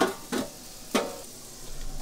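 Pork steaks and potatoes cooking on a camp stove, a soft sizzle in the pan broken by a few brief scraping stirs, quiet and close.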